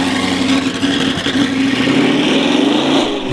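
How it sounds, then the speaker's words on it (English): An Audi R8 engine drones steadily and loud during a bump start attempt, with a rising whine as it strains and turns over, close by. "we can actually try and bump start it"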